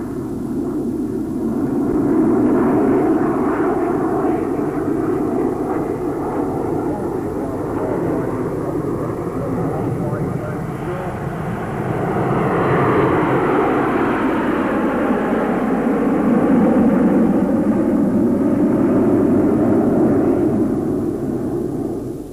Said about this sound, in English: and Shirley Wood and Johnny Hyam conferred, a noise like thunder heralded the arrival of a Lightning jet fighter.